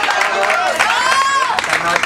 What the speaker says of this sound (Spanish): para quien le pido un fuerte aplauso